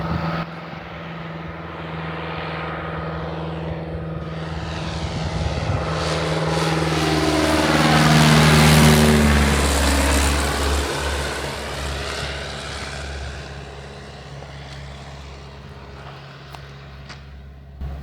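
A propeller airplane comes in to land at Cape Winelands Airport, its engine drone swelling as it passes nearby and then fading away over about eighteen seconds, with no one speaking.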